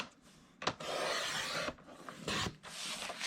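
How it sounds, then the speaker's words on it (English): A paper trimmer slices through craft paper in several short rasping strokes, each a quick scraping swipe separated by brief pauses, close and moderately quiet with no talking. "So I'm just going to put this in my trimmer."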